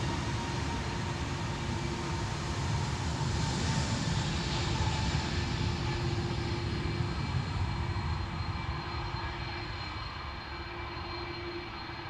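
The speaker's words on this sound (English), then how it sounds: "We can already hear the flight to Detroit." Jet airliner climbing out from Amsterdam Schiphol on a flight to Detroit, a loud, steady engine roar with broadband rushing noise and a tonal whine, sustained throughout and slowly fading toward the end.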